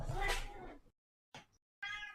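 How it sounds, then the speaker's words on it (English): A house cat meows close to the microphone: a long loud call first, then a short chirp-like sound and a final tonal meow, with pauses between them. "Yes, that is my cat."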